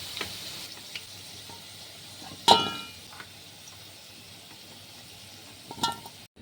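Whole potatoes frying in hot oil give a soft, steady sizzle close by, broken by a sharp metallic clink of a utensil and a few lighter taps.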